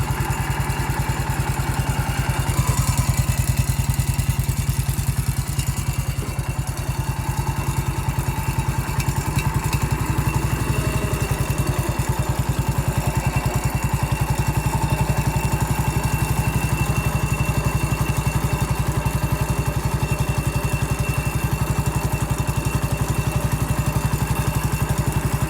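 Massey Ferguson MF 14 bulldozer engine running steadily as the machine drives during yard cleanup, a continuous loud, rough mechanical drone with clattering texture throughout and no talk.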